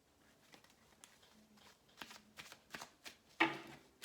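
Tarot cards being shuffled by hand, a series of soft riffling bursts and taps at irregular intervals, close and quiet, ending in a sharper louder riffle.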